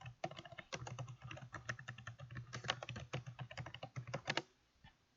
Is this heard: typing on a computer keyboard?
yes